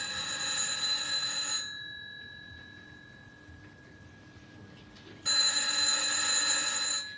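An old telephone rings twice, each ring a loud sustained electric bell trill of about one and a half seconds, separated by a quiet pause of several seconds in a room.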